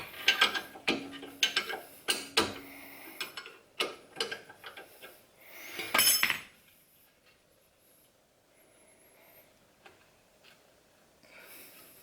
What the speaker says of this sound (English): These 2 bolts, I'm going to pull those out, and we'll pull this whole caliper bracket off.